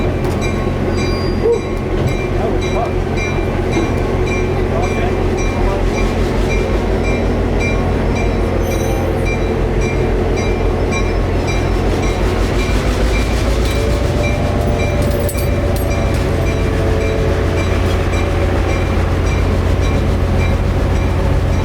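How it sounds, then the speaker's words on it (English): CF7 locomotive number 204 rumbles past with its train, a loud continuous low engine drone layered with rail clatter and faint wheel squeal, steady throughout at close range. "It's 2:00 p.m. and it's time for the train to head north."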